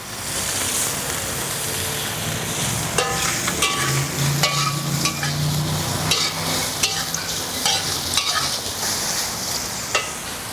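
Shallots and ginger frying in hot oil in a home kitchen, a steady bright sizzle with scraping stir strokes and occasional clinks of a utensil against the pan, continuous and close, with no one talking.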